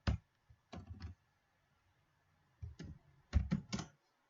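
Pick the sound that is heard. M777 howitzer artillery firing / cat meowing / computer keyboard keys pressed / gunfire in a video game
computer keyboard keys pressed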